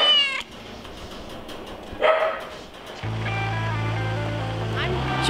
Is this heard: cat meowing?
yes